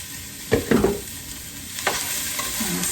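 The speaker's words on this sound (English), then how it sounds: "And stir that in." Meat is stirred into a hot pan, with a few scraping strokes of the spoon over a low, steady sizzle and then a quieter stretch toward the end.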